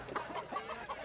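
A chicken clucks in a quick series of short, throaty calls, close and moderately quiet, during a comedy movie scene with no talk over it.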